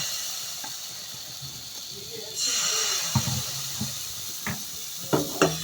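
Patishapta pitha batter hits a hot pan on medium heat and breaks into a sudden, steady hiss partway through, with a few sharp clicks and clatters of the pan over the sizzle.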